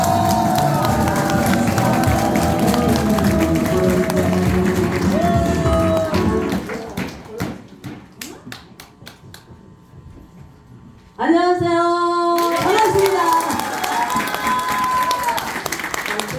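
An audience at a laughter-therapy gathering claps and cheers as a singer is welcomed onstage, loud crowd noise over music, then a quieter stretch where a man greets them briefly before the applause and music swell again.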